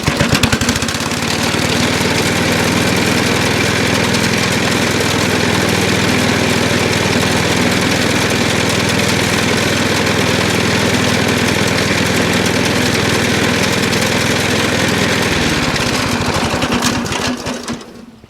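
A Honda-powered Kee commercial push mower engine runs steadily and loud at close range, a dense continuous buzzing drone that holds without a break until it tapers near the end, with no voices.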